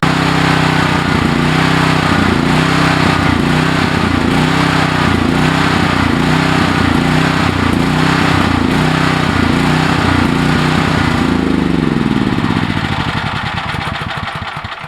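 A small engine started with a key fires up and runs steadily with a loud, even, pulsing rumble close by, then cuts out and fades near the end.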